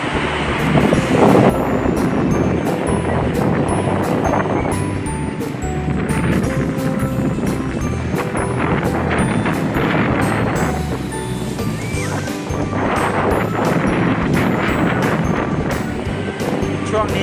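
Strong wind sweeps a Phuket tourist beach, buffeting the microphone in a continuous loud roar with gusts, with faint speech mixed in.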